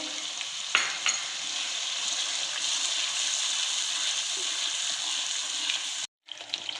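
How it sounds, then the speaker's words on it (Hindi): Beaten curd is stirred into sizzling masala for a white-gravy chickpea curry. The frying hiss is loud and steady, with stirring and a sharp clack near the start, and the sound cuts out abruptly near the end before briefly resuming. "अब 1 कप इसमें फिटा हुआ दही है, मिक्स किया हुआ। अब इसको भी मिक्स करेंगे।"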